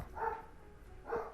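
A dog in the survival game 60 Seconds barks twice, about a second apart. Both barks are soft and muffled, as if from outside, over a low steady background hum.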